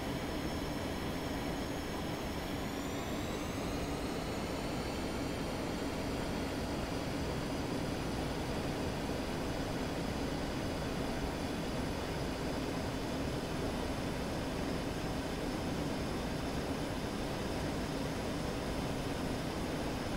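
Engine of an F-5E jet in a DCS flight simulator, a constant broad roar with a whine that rises in pitch early on as power comes up, then holds steady and even throughout.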